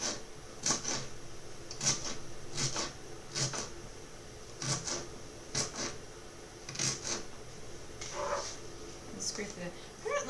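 Rhubarb stalks chopped with a knife on a cutting board give a series of crisp, fairly regular chops about one per second, close but moderately quiet, with a voice talking between them.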